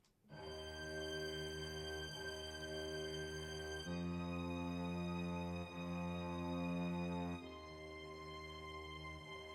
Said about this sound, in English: I of course play the violin and the cello.